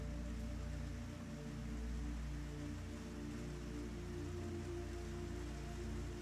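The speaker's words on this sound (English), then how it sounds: "The rain outside" Steady rain falling outside a coffee shop in New Orleans, a soft continuous wash of drops with a low steady hum beneath, calm and unbroken throughout.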